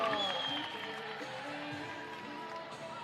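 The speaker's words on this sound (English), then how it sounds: "Great team reaction, great crowd reaction." Crowd applause at a BYU at USU gymnastics meet after a routine, steady clapping and cheering in a large arena heard at moderate distance, with music and voices mixed underneath.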